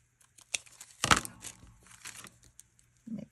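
Paper or vellum being cut and handled, a series of quick close crinkles and snips with one louder tearing rustle near the start, scattered over a quiet background.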